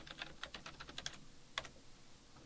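Keys on a computer keyboard clatter in a quick run of about a dozen light taps, then one firmer keystroke, close and faint, with no speech.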